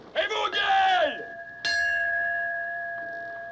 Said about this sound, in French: Pilote, à quelle position estimez-vous cette cloche?